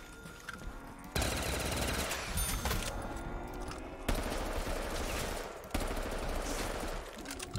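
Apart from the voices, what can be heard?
gunfire from a gun in Vanguard Zombies video game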